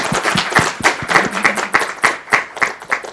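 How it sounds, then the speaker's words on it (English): An audience at a tech-company speaker series applauds after a talk: brisk, steady, rhythmic hand clapping close by, loud and continuous for about three seconds, with no talking over it. "Big applause for Kate."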